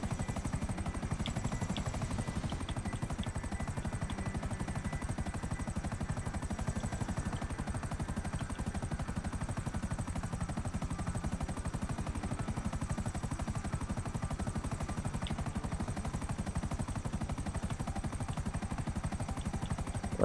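A video game helicopter flies on steadily, its continuous rotor whir and engine noise filling the whole stretch at an even level with no talking.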